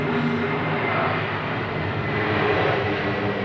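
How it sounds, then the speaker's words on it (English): An aeroplane passes overhead in a residential area, a loud, continuous, rumbling engine roar that fills the whole clip with no speech over it. "do any more aeroplanes want to come over my head right now?"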